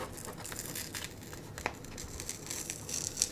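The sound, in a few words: opening a tarot deck's packaging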